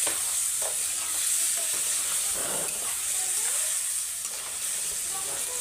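Fresh vegetables sizzling with masala in a pan, a dense steady frying hiss close up with faint stirring scrapes, no talking.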